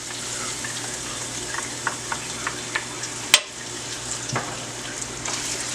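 Sizzling of a pan as a pod and a half of chopped garlic fries and is stirred, for a cheesy breadfruit pie; steady close frying hiss broken by a few light scrapes and one sharp knock of the utensil.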